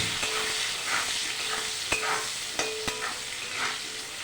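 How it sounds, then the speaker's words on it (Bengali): Cut potatoes and bitter gourd fry with salt and turmeric in a pan tempered with black cumin, giving a steady close sizzle broken by a few sharp stirring knocks of the spatula, with no talking. "কেটে রাখা আলু আর উচ্ছে। লবণ আর হলুদ দিয়ে ভালো করে একটু ভেজে নেব।"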